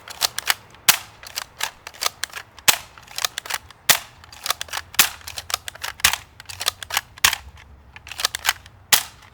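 A Nerf blaster fitted with a 10lb spring fires darts in rapid succession, a string of sharp, snappy shots with uneven spacing, close and loud, with no talking.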